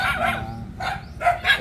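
Dogs bark in a few short bursts at a rural home in Dong Thap, Vietnam, fairly close, with low background rumble between the barks.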